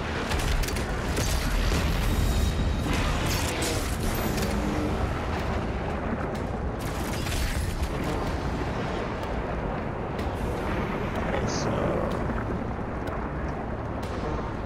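Shotgun with grenade launcher attachment firing in Doom Eternal, a dense run of booming explosions and mechanical clatter that stays loud and busy the whole time with no pauses.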